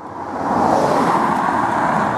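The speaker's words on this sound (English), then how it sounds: "And here comes the car." Car on a cinder track rolling past, a smooth broadband road rush swelling in the first half-second and holding steady, fairly close with no voices.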